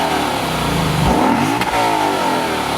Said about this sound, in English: So you got a naturally aspirated V8 and quad exhaust.